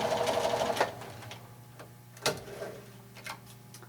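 A sewing machine stitches a seam and then back stitches, giving a quick run of rapid mechanical ticking followed by a few separate clicks and thumps, quiet and close.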